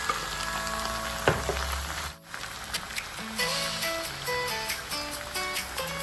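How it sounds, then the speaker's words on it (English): Marinated pork sizzles and crackles in a hot pan as it is stirred, a steady frying hiss with scraping and clinks of a utensil throughout, plus a brief sharp knock near the start. "Now transfer the marinated pork into the pan and stir well, mix well."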